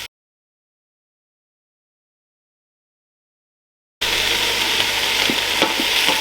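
Onions frying in oil inside a Ninja Foodi Max pressure cooker, a steady sizzle that starts abruptly after four seconds of silence, with a few light clicks of stirring.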